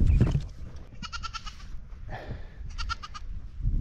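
A young goat bleats on a farm in two bursts of rapid, quavering cries, set against rustling outdoor background noise with a brief low murmur between them.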